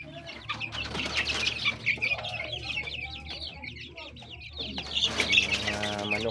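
Dwarf chickens cluck continuously at close range in a farmyard, with busy overlapping chatter from several birds and a louder burst of calls near the end.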